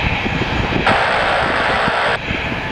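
A Titan Airways Airbus A321 airliner taxiing to the runway holding point at Manchester, a loud steady jet engine whine and rumble that stays close and constant throughout, with a brief brighter tone band in the middle.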